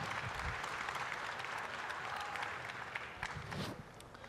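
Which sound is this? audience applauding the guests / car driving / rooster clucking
audience applauding the guests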